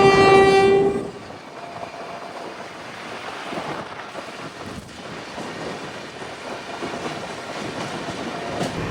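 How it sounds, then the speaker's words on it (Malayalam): An NMG rake hauled by WP4 and brand-new WP7 locomotives from Vijayawada passes on Indian rails: a loud horn blast opens, then a steady rushing rumble of wagons rolls by nearby with faint clickety-clack and wind, no voices. "വിജയവാഡയുടെ ഒരു പുതുപുത്തൻ WP7 ലോക്കോ വെച്ചോണ്ട് ഒരു NMG ട്രെയിൻ കണ്ട് പോയിക്കൊണ്ടിരിക്കുകയാണ്"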